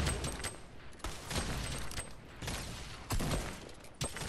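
Sniper rifle fire in the Fortnite video game, sharp broadband cracks at roughly one-second intervals over a busy game-battle background with no talking.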